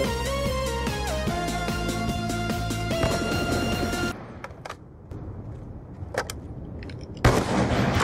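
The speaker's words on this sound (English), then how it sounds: "Both of us fired at the same time." Two players in a sniper shooter fire at the same moment: a dense, loud burst of layered gunfire and metallic reverberation that cuts off abruptly, followed by quieter scattered clicks and shots, with no talking.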